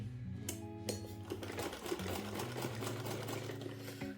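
A sewing machine stitches a cloth baby cap, a steady rapid mechanical whirr with a couple of sharp clicks near the start, close and alone without talk.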